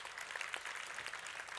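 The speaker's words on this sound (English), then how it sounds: "Can we give a round of applause to Capella?" A crowd claps steadily and densely throughout, close and sustained, as a round of applause for the performer Capella.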